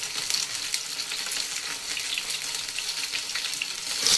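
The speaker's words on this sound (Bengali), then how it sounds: "আমি এখানে উল্টে পাল্টে দেবো যাতে এঁচড়গুলো সব ভাজা হয়ে যায় সুন্দর মতো" Jackfruit pieces and potatoes sizzle steadily in hot oil while being turned and stirred in the pan, a close, continuous frying hiss with soft scraping.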